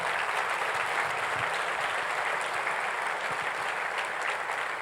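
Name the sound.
welcome applause from church congregation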